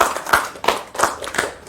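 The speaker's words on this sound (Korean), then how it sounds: "우리 하나님께 영광의 박수를 드립시다." A church congregation gives a few distinct, rhythmic claps in unison, four loud sharp beats spaced evenly and close by, with short gaps of quiet between them.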